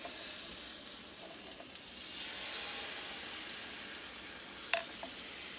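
A dozen beaten eggs poured onto a hot grill give a soft, steady sizzle and hiss, faint and continuous, with one brief sharp clack near the end.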